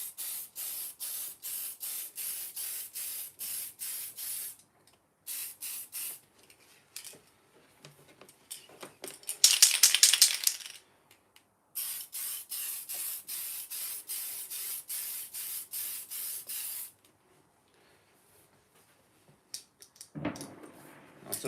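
Spray can paint hissing in quick, rapid bursts onto a 1969 Ford Transit Supervan model, close and steady with short pauses between runs and one louder, longer spray in the middle.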